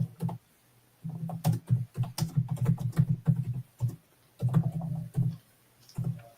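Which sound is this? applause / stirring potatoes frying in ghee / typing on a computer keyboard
typing on a computer keyboard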